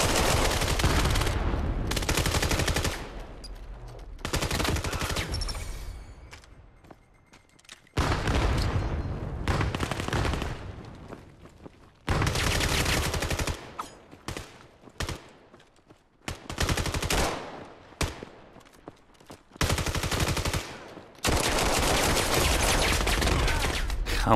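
Repeated bursts of gunfire in the VR shooter VAIL, loud rapid volleys resembling machine-gun fire broken by short quiet gaps, with no talking.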